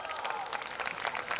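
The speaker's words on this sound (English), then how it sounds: "Please give them a huge round of applause." A school audience applauds at an annual prize distribution function at MGN Public School, Adarsh Nagar: a steady, dense wash of many hands clapping that holds at an even level throughout.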